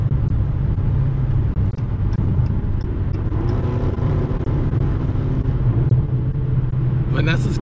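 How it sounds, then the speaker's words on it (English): A 6.1-liter early Challenger SRT with an exhaust delete rumbles on the highway, its deep engine drone steady and loud throughout, swelling briefly near the end as it passes an overpass. "They're gonna rev it probably."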